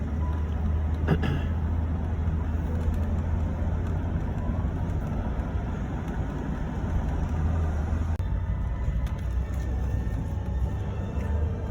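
A car drives steadily across a lakeside bridge on a rural road, its engine and tyre rumble a constant low drone throughout, with a couple of brief clunks partway through.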